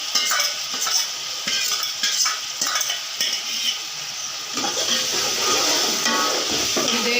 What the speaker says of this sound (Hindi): थोड़ी देर भूनेंगे, फिर हम पानी डालेंगे।